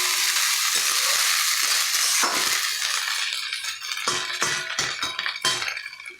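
Rice frying with vegetables, mutton mince, prawns and egg in a pan, a loud steady sizzle broken by repeated scrapes and clinks of a spatula against metal, close up and without speech.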